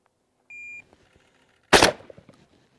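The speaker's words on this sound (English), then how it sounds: "Let's just shoot a couple of more shots" A short electronic timer beep, then a single sharp, loud shotgun blast firing buckshot, its crack trailing off into a brief echo in an otherwise quiet outdoor setting.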